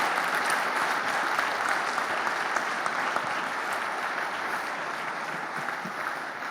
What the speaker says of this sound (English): Please join me in a great round of applause for this team that for sure will put our country forward